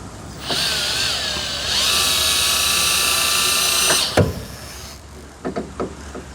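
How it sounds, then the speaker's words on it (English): A power drill fitted with a short 18mm socket tightens a bolt during installation of an OEM camper package on a Ford F250, whining steadily and close for about four seconds, then stopping with a clunk and a few light knocks. "get a shorty 18mm socket for this one so that you can get your drill in there"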